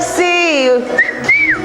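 A person whistles a short, clear melodic phrase with gliding pitch, loud and close, in a brief call-and-response singing game among a group.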